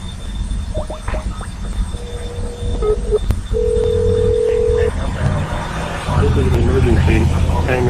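A phone dials 911 and gives a few short tones, then a steady beep. Road and engine noise continue underneath, and an automated voice follows.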